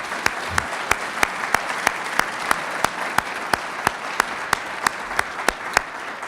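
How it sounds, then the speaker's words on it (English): A final round of applause for the Farm Bureau and award winners at the Special Olympics Virginia 2014 Awards Celebration: a full room clapping, with one sharp, evenly spaced clap standing out close by. "Let's give Farm Bureau and our award winners one last good round of applause."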